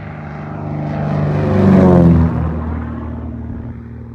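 A Bellanca airplane's propeller engine drones through takeoff, a loud close rumble with a buzzing tone that swells to a peak around the middle and then eases off as the aircraft climbs away.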